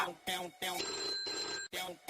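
A mobile phone rings in short repeated electronic bursts separated by brief gaps, heard clearly and mostly on its own.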